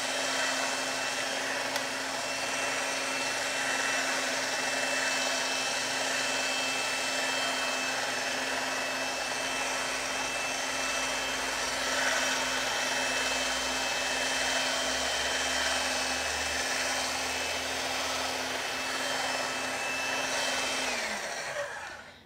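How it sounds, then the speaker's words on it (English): A motorized pasta machine rolling out sugar paste for sugar flower anemones whirs with a steady, even electric hum for about twenty seconds before winding down at the end, with no talking. "So I'll move my pasta machine over here and roll out that paste."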